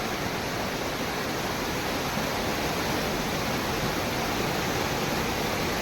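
Stream water pours over rocks beside a deep pool in a Konkan creek, a dense, steady rushing wash with no breaks, close and fairly loud, with no voices.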